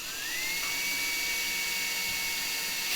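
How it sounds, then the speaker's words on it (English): A drill bores a pilot hole at a center-punch mark on a compact router part, its high whine rising at first and then holding steady and fairly loud throughout. "And that's all it takes for the pilot hole. And I'm going to remove this drill."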